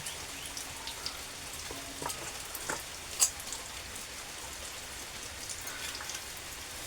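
Heavy rain falls at a rock cave on Mawaragala mountain, a steady, fairly quiet wash of drops with a few sharper taps standing out, and no voices.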